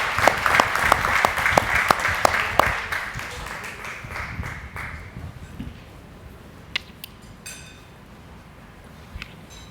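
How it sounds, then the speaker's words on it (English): Audience applause at a high school athletic hall of fame ceremony, loud with sharp individual claps at first, then thinning and fading to scattered claps and room noise over ten seconds. "let's give a big round of applause to Alvin Pierce Bradley"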